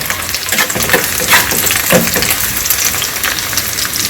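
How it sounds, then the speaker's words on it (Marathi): Red chillies sautéing in a pan, a dense crackling sizzle with spatula stirring, close and steady for a few seconds. "याच्यामध्ये आता आपण ही लाल मिरची टाकून द्यायची आहे ते सगळं टाकलं टाकल्यावर फक्त दोन दोन मिनिटच परतून घ्यायचं आहे"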